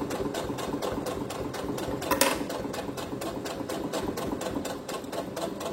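A sewing machine runs steadily while topstitching fabric half a centimetre from the edge, a fast even clatter of needle strokes close by, with one brief louder knock partway through and no talk.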